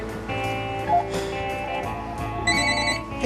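A telephone rings with a warbling bell tone under busy background sound and music, the rings repeating across the short span.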